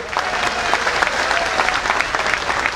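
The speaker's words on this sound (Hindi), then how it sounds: "उनके नाम की जरा एक ताली लगाएं।" An audience at an outdoor rally claps in a dense, sustained burst, loud and close, with a murmur of crowd beneath the applause.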